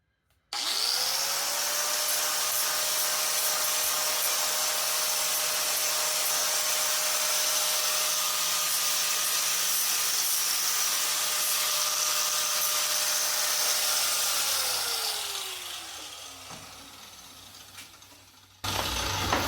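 A cat's paw nail puller is sanded with worn 80-grit sandpaper on a powered sander, producing a loud, steady whine and hiss for about fifteen seconds before winding down and stopping.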